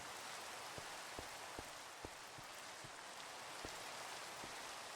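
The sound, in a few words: rain on a tall mountain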